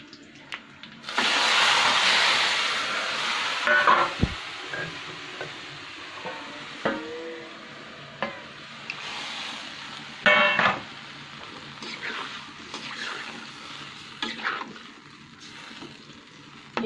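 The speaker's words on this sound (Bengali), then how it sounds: "এটা কিন্তু আমি কষিয়ে নেব" Food is stir-fried in a pan, with a loud sizzle as it hits the hot oil, followed by repeated scraping and clattering of a utensil against the pan over a lower, ongoing fry.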